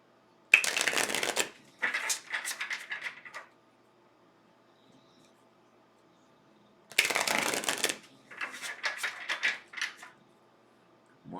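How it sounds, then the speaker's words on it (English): Two rounds of close card shuffling, each a loud riffle followed by a string of softer taps and bridges, separated by quiet pauses. "One more shuffle."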